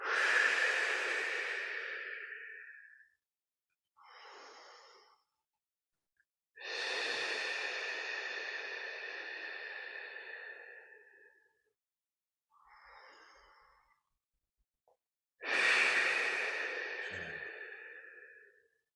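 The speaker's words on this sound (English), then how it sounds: "Do 3 candle breaths again. Inhale through the nose. Breathe out the mouth." Three slow candle breaths during a morning yoga practice: each long, airy exhale through the mouth is followed by a short, soft inhale through the nose, close and alone in an otherwise silent room.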